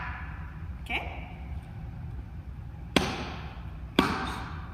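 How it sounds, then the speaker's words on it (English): Stepping dance: two sharp, loud percussive hits, like a foot stomp or hand clap, land about a second apart late in the passage, over steady low background noise, with an earlier fainter sound. "I take another step, boom, clap,"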